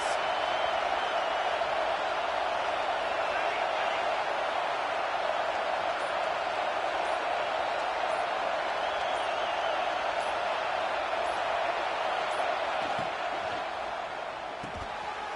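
Steady roar of a large stadium crowd at a Washington football game, cheering continuously for the defense in the red zone, a dense sustained wash of voices that eases slightly toward the end.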